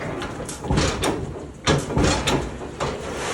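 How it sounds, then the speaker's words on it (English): Sheet metal is bent on a brake and pulled free while an HVAC auxiliary drain pan is fabricated, giving a series of close metallic creaks, scrapes and thumps. "So we bend the metal over, pull it out of the brake, and then we'll match it tight."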